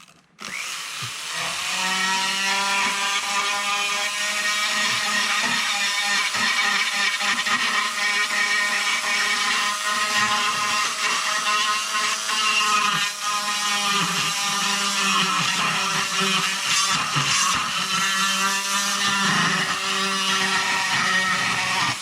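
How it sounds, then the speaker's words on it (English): A power carver with an extra coarse Saburrtooth burr grinds steadily into black walnut, a loud, continuous high whine with slight pitch wobbles as the bit digs in and eases off for over twenty seconds. "we're going to just do some real-time carving here, adding some details and things like that."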